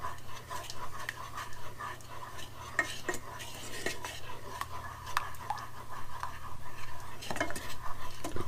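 A spoon stirs sugar syrup in a pot for a lemon cake, giving soft repeated scraping and clinking against the metal, faint and close, with quiet talk in the background.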